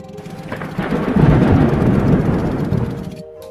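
A thunderstorm over a Bajau coastal village rolls in with a deep, swelling rumble of thunder that builds, holds loud for a couple of seconds, then fades, with rain hiss underneath.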